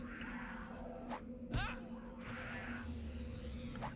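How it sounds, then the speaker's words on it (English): A cat meows in the game Everquest, a few short mewing calls rising out of steady game ambience and background hum, fairly faint and brief. "These cats don't run away, do they?"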